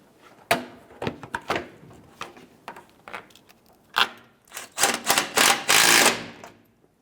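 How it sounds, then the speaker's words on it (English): A socket wrench tightens bolts on the air deflector of a 2008-2010 Ford F-250 Super Duty, giving close, uneven bursts of sharp ratcheting clicks that build into rapid runs near the end. "I'm just going to reattach it on both corners since I already have my socket and bolt ready."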